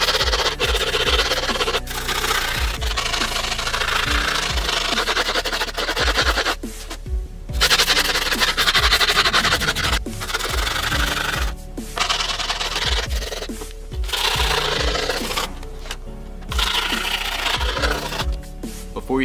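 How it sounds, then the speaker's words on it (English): A screwdriver rasps along the edges of skateboard grip tape in repeated scraping strokes with brief pauses between, close and loud. "filing down the edges."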